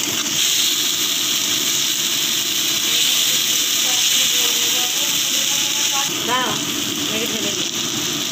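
Turmeric, chili powder and salt sauté in oil in a pan for a pomfret fish curry, giving a steady close hiss with a faint voice briefly underneath.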